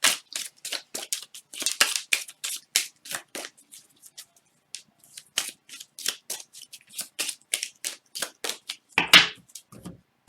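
Oracle cards are shuffled by hand close up in quick riffling bursts, a rapid irregular series of crisp papery flicks and slaps that keeps going for about ten seconds.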